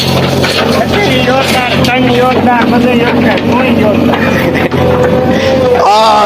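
A tractor engine on a farm drones loudly and steadily close by, while people talk over it the whole time.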